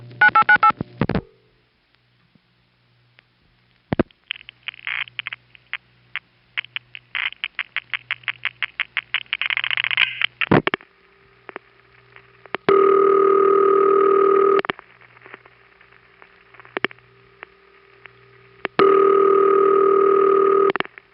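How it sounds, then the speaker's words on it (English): A 1977 telephone call routed through a Manhattan panel switching office: fast clicking pulses and tones during setup, a burst of rapid clicks, a heavy thump as the call answers, then repeated long ringback tones with pauses between them. "This next call, when it answers, makes a very hefty supervision sound that could only be coming from a panel office"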